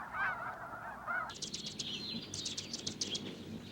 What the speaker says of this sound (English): This is autumn in California, the western flyway for geese.